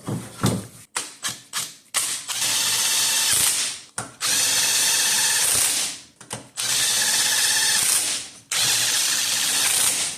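A power tool whirs in several sustained bursts after a series of short ratcheting clicks, loud and close, with brief pauses between runs, during a timing belt replacement on a Dodge Dart 1.4L.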